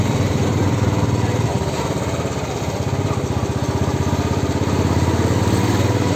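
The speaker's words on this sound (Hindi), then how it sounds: "अभी ना हमारे तोसीफ भाई बाइक चला रहे हैं।" A motorcycle engine drones steadily at close range, a continuous buzzing rumble as the bike rides along without pause.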